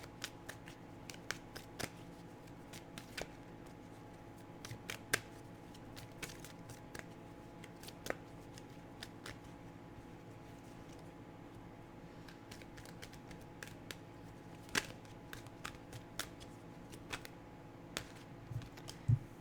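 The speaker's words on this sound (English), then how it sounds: "I'm just going to get one more card." Tarot cards being shuffled and drawn, heard as faint, close, scattered papery flicks and soft snaps spread through a quiet room over a low steady hum, with no talk.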